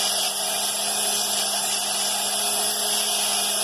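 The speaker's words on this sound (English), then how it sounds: "sand the stone all down to an even area before I decide how I'm going to finish the stone" A diamond-embedded tool sands down a gemstone during carving, giving a steady, loud, high-pitched grinding whine that holds continuously without pause, close by.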